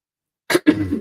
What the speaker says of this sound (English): Excuse me, sorry, had to cough.